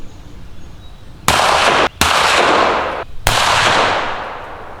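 Three sharp, loud cracks from a .22 rifle fired while frogging ring out close by, each trailing into a harsh, lingering burst of noise.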